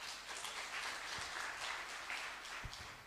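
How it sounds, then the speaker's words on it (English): Faint, distant audience applause at an agricultural biotechnology forum launch in Malawi, a soft continuous patter of many hands lasting about three seconds. "Let's give Mr. Shinoko another round of applause, please."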